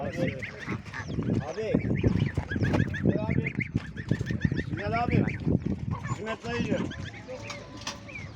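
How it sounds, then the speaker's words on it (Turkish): Chickens and roosters cluck and squawk constantly in a crowded, noisy poultry market in Sungurlu, Çorum, Turkey, with people talking underneath the birds. "Evet burada da horozumuz, tavuklarımız var"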